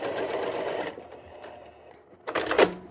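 Sewing machine stitching quilt pieces at a quarter-inch seam, a loud, rapid mechanical rattle that stops for about a second and then starts up again, close and clear.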